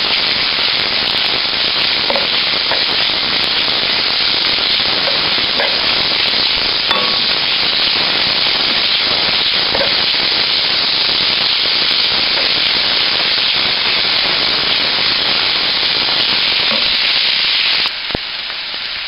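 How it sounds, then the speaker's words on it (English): Onions frying in a pan as part of an eggplant dish, giving a steady, dense, close sizzle that holds evenly from start to finish, with small pops and crackles scattered through it and no talk. "the onions, and I'm going to fry this as well."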